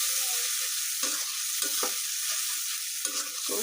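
Masala spices are sautéed in a pan, giving a continuous close sizzle broken by repeated stirring scrapes of a spoon, with no talking.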